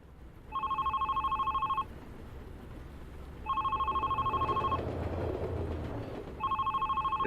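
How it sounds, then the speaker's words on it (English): In the video game The Red Strings Club, a phone rings in three sustained electronic trills with gaps between them, clear above a steady low background rumble. "Just a phone ringing off the hook."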